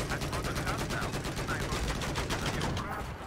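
Dense, sustained automatic gunfire in Battlefield 4, obliteration mode, loud and close with rapid overlapping shots and explosions rattling continuously for a few seconds.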